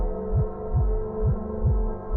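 A racing heartbeat sound effect pulses as four evenly spaced deep thumps over a low steady hum, with no other sounds.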